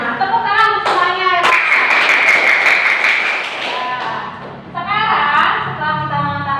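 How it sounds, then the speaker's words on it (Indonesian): A classroom of pupils claps for everyone during an ASEAN lesson, a burst of hand clapping in the middle stretch with children's voices talking and calling out before and after. "Tepuk tangan untuk semuanya."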